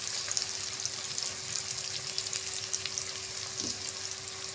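Potato balls frying in hot oil, a soft continuous crackling sizzle with light spitting pops, close but fairly quiet, steady throughout with no voices.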